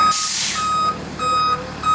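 A truck's backup alarm beeps in slow, evenly spaced tones over a low engine rumble, with a burst of air hiss at the start.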